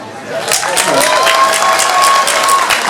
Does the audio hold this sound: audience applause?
yes